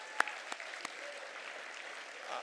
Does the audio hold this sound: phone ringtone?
no